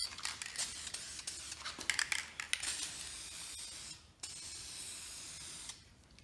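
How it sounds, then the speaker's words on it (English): Aerosol can of wheel gloss clear coat sprayed onto a black alloy wheel, a close, loud hiss in repeated bursts of varying length with brief pauses between, ending in a longer steady spray. "our last step, we're going to use this wheel gloss clear coat."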